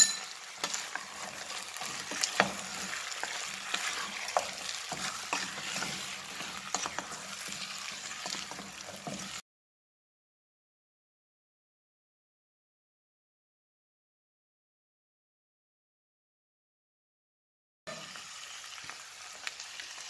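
Garlic and tomato paste sizzle and fry in a pot while being stirred, for maqluba. The sizzling is steady and close, with scraping stirs, then it cuts to silence before a short return of frying.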